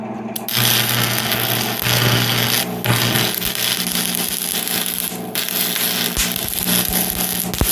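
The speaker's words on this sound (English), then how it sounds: "Let me see if I can get a better weld on it." Steady, harsh crackling and buzzing of welding onto a twisted-off bolt in a John Deere 60 cylinder head runs continuously at close range, with a low hum beneath and a few brief breaks.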